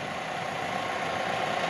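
A Mazda 5 with a 16-valve engine idles at a steady, even hum, close and continuous without revving, with no voices.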